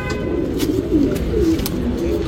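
A pair of Rekdhar pigeons cooing close by, soft rolling coos repeating over a low background hum, with no talk over them.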